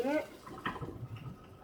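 Freshly cooked pasta for macaroni and cheese is drained, water splashing into a kitchen sink quietly and briefly after a voice at the start.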